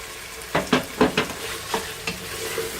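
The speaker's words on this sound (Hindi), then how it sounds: "फ्रेश धनिया डाल के आप इसको मिक्स कर लें" Fresh coriander being stirred into sizzling balti gosht, several distinct scraping stirs of a spoon against the pan over a soft steady sizzle, close and clear with no talking.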